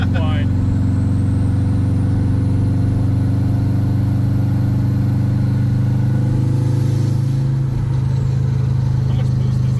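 A drift car's engine drones loud and close as it revs and builds boost, a sustained, heavy mechanical hum that shifts pitch slightly near the end, with voices faintly present underneath.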